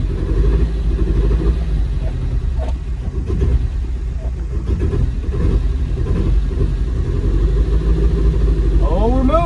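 A car's engine runs steadily in a wrecked vehicle brought back to life, a continuous mid-pitched rumble close by, with voices over it.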